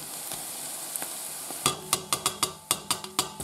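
Chorizo frying in a pan with onions, a faint hiss under a run of sharp, evenly spaced scrapes and taps as the pan is stirred.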